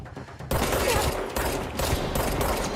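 Heavy gunfire from a sniper weapon in the video game Control breaks out suddenly and keeps going as a loud, dense burst of shots and impacts.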